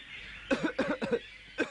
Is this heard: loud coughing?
yes